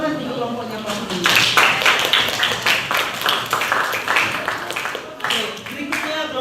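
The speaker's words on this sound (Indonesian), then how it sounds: "Tepuk tangan untuk kelompoknya pasti." Students in a junior high science class clapping for a group, a burst of scattered applause swelling and fading over several seconds, mixed with classroom chatter.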